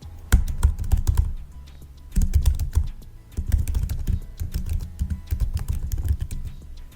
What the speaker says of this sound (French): Tu tapes fort sur ton clavier, non?